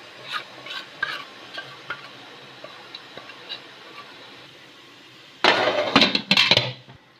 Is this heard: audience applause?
no